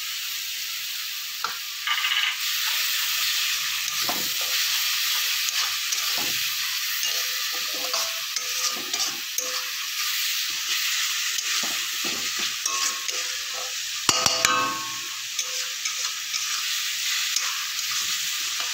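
Ginger garlic paste frying with onions in a pan, a continuous sizzle broken by repeated scraping and stirring strokes, close and fairly loud.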